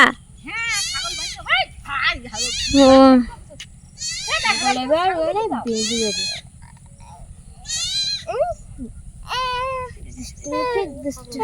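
Goats bleat repeatedly and loudly at close range in an open outdoor spot by a river, their wavering cries coming in irregular bursts, with a person's voice mixed in.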